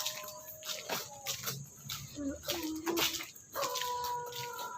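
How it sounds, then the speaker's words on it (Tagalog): A dog whimpers and whines in short high-pitched bursts, fairly close, with faint background noise between the cries. "aso yun."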